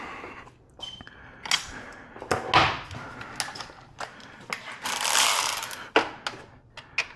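A ratchet loosening 10 mm bolts on the throttle actuators of a BMW E9X M3, close clicking runs of the pawl broken by pauses and metallic handling knocks, no talking.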